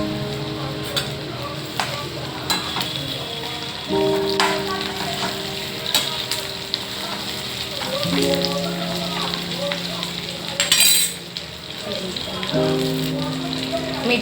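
Okra (bhindi) goes into a hot pan with oil and fries with a steady rain-like crackle, broken by a few scrapes and taps of stirring while a faint tonal hum runs underneath.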